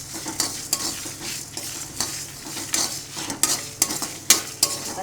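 Ingredients for puli kuzhambu frying and being stirred in a pan. A spoon scrapes and clinks at an uneven rhythm over a steady sizzle, close and fairly loud, with no talking.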